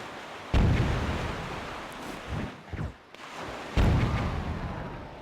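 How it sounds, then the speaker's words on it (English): Bombs exploding in Zelda: Wind Waker, two heavy booming blasts about three seconds apart, each with a long rumbling tail, plus smaller thuds between them and no talking. "Oops, but they're bombing me back."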